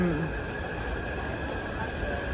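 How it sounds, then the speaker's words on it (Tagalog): A train pulls into a station in Taipei, giving a steady loud rumble with squealing wheels and rail noise throughout, and faint voices are heard under it. "Nandito na po kaagad yung tren."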